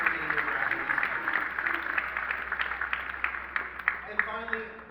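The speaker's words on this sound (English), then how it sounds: "let's give all your family and friends a round of applause" Audience applause at a high school arts graduation ceremony, steady mid-level clapping from a crowd with a few sharper claps standing out, heard in a large hall with a low hum underneath.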